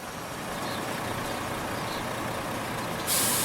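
A truck loading flour at a mill runs with a loud, steady engine rumble close by, then gives a sudden sharp hiss of air brakes near the end.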